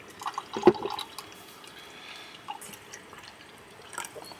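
Brine from a jar of artichokes is poured as a small splash into a homemade cocktail: one sharp drip and splash, then soft intermittent trickles against a quiet background.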